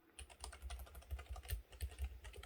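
Rapid typing on a computer keyboard at a desk setup with a Gigabyte M32Q KVM monitor, an irregular stream of soft, close key clicks with no voices.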